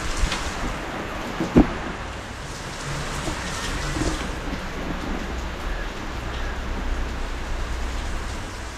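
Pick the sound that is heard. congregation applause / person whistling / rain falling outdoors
rain falling outdoors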